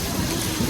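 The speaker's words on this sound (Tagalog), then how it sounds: "Ayan, sa ulan." Rain falls steadily on a wet Wednesday morning, a short, even wash of hissing patter with a soft low rumble beneath, close and continuous.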